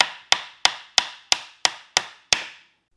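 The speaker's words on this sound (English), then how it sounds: "So we'll go ahead and we'll start nailing on these sides." Eight evenly spaced, sharp hammer strikes drive nails into the side slats of a wooden crate, each crisp bang ringing briefly before the next, close and loud with no talk.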